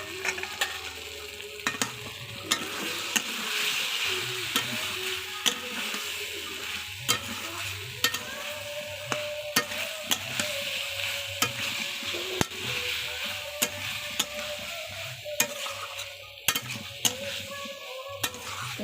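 Fried lentil fritters and potatoes stirred in a pan, a steady sizzle broken by repeated sharp scrapes and knocks of a spatula against the metal, close and busy, with no talking.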